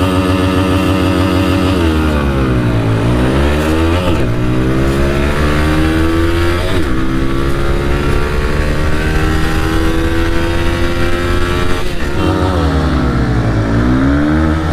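A Honda Hornet 2.0 and an Apache 160 4V motorcycle drag race, engines roaring loud and close through repeated rising revs and gear shifts, with no voices over the constant engine note.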